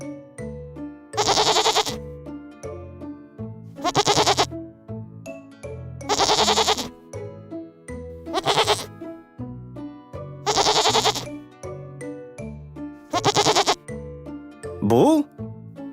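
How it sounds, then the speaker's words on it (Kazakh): Goat bleats in a children's animal-sounds lesson, six loud, evenly spaced calls about two seconds apart, close and clear, the last one wavering upward in pitch, over a bouncy musical backing. "Бұл ешкі."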